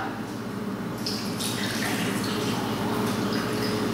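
Poultry broth pouring and trickling steadily through a chinois strainer, a continuous watery splashing with a low hum underneath.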